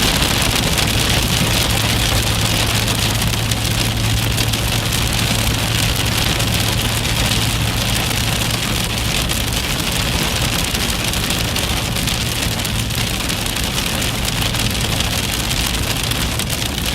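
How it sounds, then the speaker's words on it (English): Steady rain pours down during a severe storm chase in Dixie Alley, a dense constant hiss on the surface near the vehicle, with a low engine hum running underneath throughout. "Here comes the rain."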